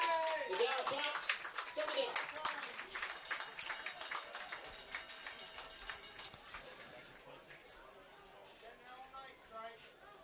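The Bluffton home crowd at a high school football game against Lima Central Catholic gives scattered, sarcastic applause, with sharp, uneven claps that thin out over several seconds amid background chatter.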